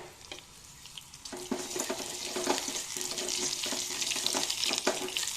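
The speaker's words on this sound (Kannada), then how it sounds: "ಸ್ವಲ್ಪ ಫ್ರೈ ಆಗಲಿ." Garlic, dry chili pieces, cumin and mustard seeds frying in coconut oil, a close, continuous sizzle that grows louder after the first second, with scattered pops and the scrape of stirring.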